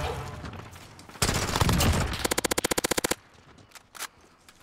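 In an infected match of the video game Call of Duty Modern Warfare, a loud sustained burst of gunfire gives way to a rapid, evenly spaced string of shots, then stops abruptly, leaving quieter background sounds.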